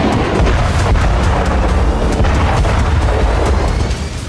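Artillery and multi-barrel rocket launcher explosions strike Karabakh settlements in wartime, forming a dense, loud, continuous rumble of booms and blasts with sharp bursts layered over a heavy low roar.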